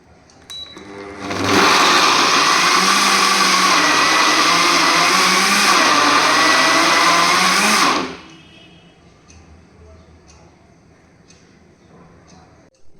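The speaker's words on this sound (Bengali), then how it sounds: "এই কটা উপকরণ দিয়ে আমি এবার পেস্ট বানিয়ে নেব" A blender grinds seeds, nuts, coconut powder and crushed garlic into paste, starting abruptly with a loud, steady high whirr for about six seconds, then cutting off to quiet room noise.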